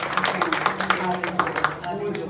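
Bible study group clapping for a departing teacher, a short stretch of uneven hand claps from a small gathering, fairly close, mixed with faint chatter.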